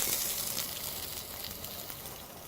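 Chopped onions glazing in olive oil in a pan, a soft steady sizzle and crackle, fairly quiet and continuous.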